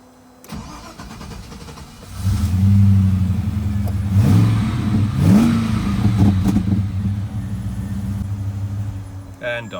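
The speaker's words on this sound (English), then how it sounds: "as soon as you give it hard acceleration, it'll just cut out and die" A Nissan Patrol fitted with an LS1 V8 engine starts and revs under hard acceleration, the loud engine note rising and wavering before stumbling and cutting out, heard up close without talk.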